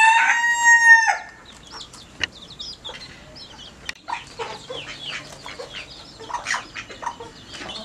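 A bantam hen clucks and chatters in short bursts after a rooster's crow at the start, with small bird calls scattered around outdoors.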